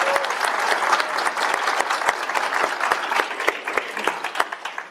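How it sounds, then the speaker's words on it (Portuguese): Audience applause at a gender and sexual diversity panel at Brazil Forum UK 2017: dense, steady clapping from a sizable crowd, loud and close, filling the whole stretch without letup. "Palmas para Djamila, por favor."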